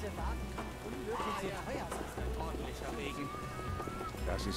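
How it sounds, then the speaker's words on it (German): Steady rain falls in The Witcher 1: Enhanced Edition during a walk through town, a continuous wet hiss with scattered footstep-like thuds and faint clatter throughout. "Das ist echt ordentlicher Regen."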